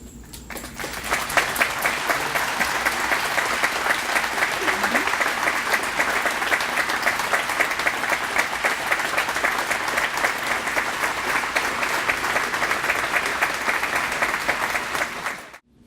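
Audience at a Woods tennis court dedication applauding the staff, a dense sustained round of clapping that swells quickly and holds strong for the whole stretch before cutting off at the end.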